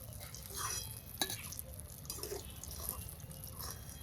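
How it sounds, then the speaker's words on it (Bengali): Eggplant pieces fry in oil and give a faint, soft sizzle, with light stirring clinks and a sharp tap near the pan. "বেগুনগুলো একেবারে লাল লাল করে ভেজে নিলাম।"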